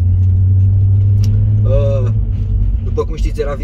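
A VW Beetle RSI HGP engine runs with a steady, loud low drone that stays level, then eases partway through while voices talk over it.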